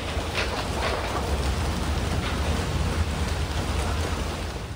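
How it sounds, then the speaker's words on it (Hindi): Steady rain falls outside a home in Bellandur, a constant dense hiss with a low rumbling undertone, unbroken and fairly loud throughout. "देखिए गाइस, फाइनली बारिश भी शुरू हो गई है."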